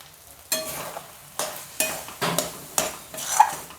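Prawn and taro ghonto being stirred in ghee with garam masala, a run of distinct scraping strokes of a spoon against the pan over a low, soft sizzle.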